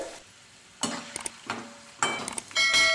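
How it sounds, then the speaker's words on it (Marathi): Fresh coriander and mint leaves fry in oil in a pan, giving a soft, close sizzle broken by intermittent scraping stirs from a spoon at irregular intervals. "आता आपण तळून घेऊ कोथिंबीर आणि पुदिना"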